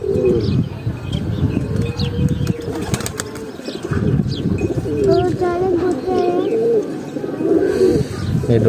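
Pet pigeons coo repeatedly in a loud, close rhythmic series, with brief chirps and some wing flapping. The coos run steadily over a busy background.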